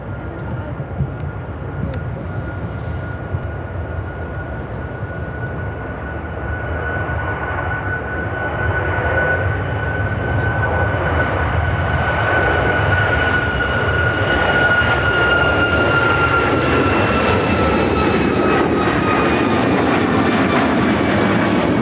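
A United Airlines Boeing 737 MAX 9 takes off at Chicago O'Hare, its engine roar building steadily to a loud sustained rumble with a rising whine over the full length, faint voices audible early on.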